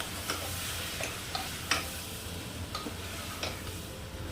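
Badi (lentil nuggets) fry in a pan with a low, steady sizzle, while a spoon stirs them with a series of light taps and scrapes at irregular intervals, near and fairly quiet.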